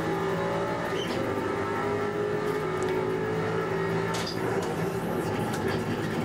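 Race car engines in iRacing at Mid-Ohio drone loud and steady in a continuous close roar, holding high revs down the front straight with only slight shifts in pitch.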